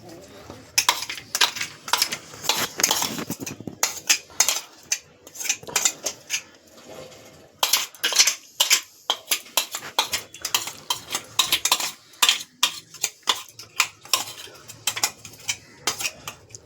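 A ground paste of mankochu, mustard, green chilli and coconut is poured and scraped from a container, with repeated sharp clinks and scrapes of a utensil against the dish in quick irregular bursts, close by.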